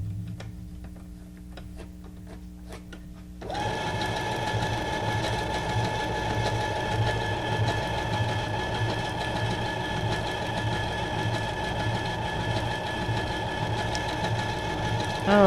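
A sewing machine stitches a junk journal page, its needle running in a steady fast mechanical tick after a quiet start with a few faint clicks, close up and continuous, with no voices.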